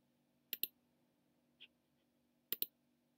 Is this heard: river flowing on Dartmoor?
no